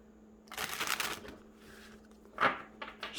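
Tarot cards being shuffled by hand in two bursts, a long riffling flutter followed after a pause by shorter, sharper card slaps, fairly close and with no talking.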